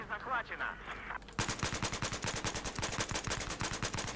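Assault rifle gunfire in the video game Battlefield: after a brief quieter start, loud rapid automatic bursts crack in a steady, fast rhythm until the end.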